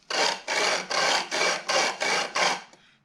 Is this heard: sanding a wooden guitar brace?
yes